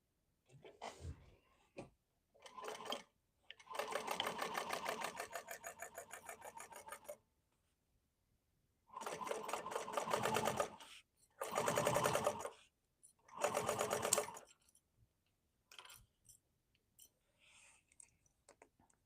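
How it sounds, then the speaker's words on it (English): A sewing machine stitches a tote bag in several quick bursts of rapid rhythmic needle clatter, separated by pauses and faint handling sounds, close and fairly quiet. "so now sew in place, but not through your interfacing"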